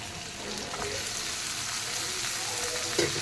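Onions and green chillies frying in a pan for a meal maker curry, a steady close sizzle and crackle with a faint clink near the end.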